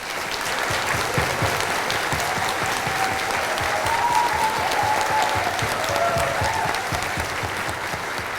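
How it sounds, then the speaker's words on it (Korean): A large audience at a lecture event in Dangjin, South Korea, claps loudly and continuously to welcome Seongnam mayor Lee Jae-myung, a dense sustained wash of applause. "따뜻하게 힘차게 환영의 박수 한번 보내주시죠"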